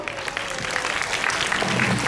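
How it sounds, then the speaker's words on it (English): Students and audience at a school spelling bee clap together in a crowded hall, a steady dense patter of applause with faint voices mixed in. "Yes, let's clap for them all."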